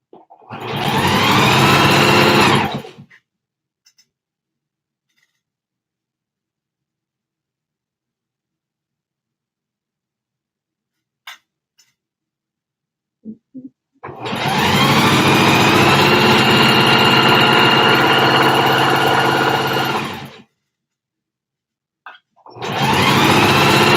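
A sewing machine stitches a channel on a multi-colored ribbon trim tutu in two loud, steady bursts of running, separated by a long quiet pause with a few small clicks, then starting again at the end.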